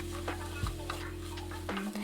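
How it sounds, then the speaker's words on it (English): Red bell peppers and cabbage sauté in a pan, with a steady sizzle under repeated scraping and stirring strokes, close and continuous. "continue to saute the vegetables until everything is soft"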